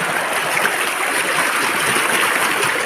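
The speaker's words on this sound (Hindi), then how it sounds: "पानी की आवाज़ सुनते रहिए" Mountain stream water rushes steadily and fairly loudly nearby, a dense, unbroken wash of flowing and splashing with no voices.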